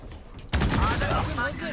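Rapid gunfire erupts in a battle royale video game, a dense burst of loud shots starting abruptly and continuing, with a voice talking over it.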